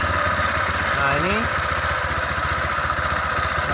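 Honda Vario scooter engine running at idle with a steady low rumble, loud and continuous, with a brief rising tonal sweep and someone talking.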